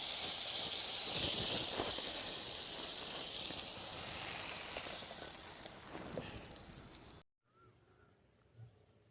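Pieces of pointed gourd (potol) fry in hot oil for a Bengali potol chingri dish, giving a loud, steady sizzle that abruptly cuts off, leaving a quiet kitchen background.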